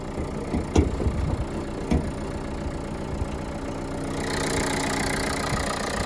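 A 2018 Renault Kangoo van engine idles with a steady low rumble, joined by a couple of sharp knocks early on and a rising hiss near the end.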